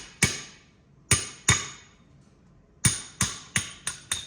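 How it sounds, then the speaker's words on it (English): Ball peen hammer striking a brass drift punch while disassembling a Muncie transmission: seven sharp metallic blows, two early ones then a quickening run of four, close and crisp with clear gaps between, no talking. "Got a brass drift punch, a little bit bigger ball peen."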